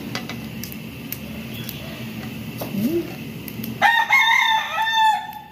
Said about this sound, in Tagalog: Aking manok.